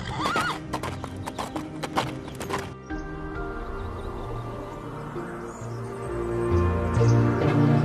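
Horse hooves clip-clop in a rapid rhythm with a neigh, then settle into a continuous rumbling trot under swelling music in a film scene.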